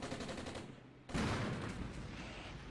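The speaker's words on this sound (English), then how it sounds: "Ready to fire for effect to get the mortars laid in." Mortar fire in Armored Brigade rolls as a steady wash of distant gunfire, then a sudden louder burst of blasts and rumble takes over and holds, with no voices.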